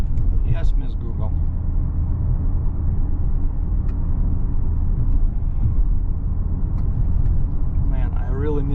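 Steady low engine and road rumble heard from inside a moving car, continuous throughout, with someone talking over it.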